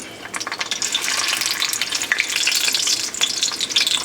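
Pierogi fry in olive oil, a steady bright sizzle that carries without a break for about four seconds, close and fairly loud, with no voices over it.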